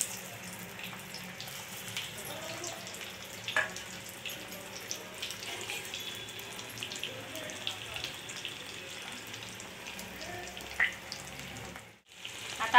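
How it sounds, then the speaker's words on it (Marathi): Stuffed bitter gourds frying in a little hot oil, a steady close crackling sizzle with occasional pops that briefly drops out near the end. "तेल तापलेलं आहे, कारली फ्राय करण्यासाठी ठेवूया एक एक करून।"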